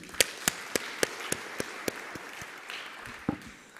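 Audience clapping follows a speech at a study-in-Europe Erasmus event at the University of Nairobi: about a dozen sharp, evenly spaced claps in a steady rhythm, fairly quiet, then a few looser claps at the end.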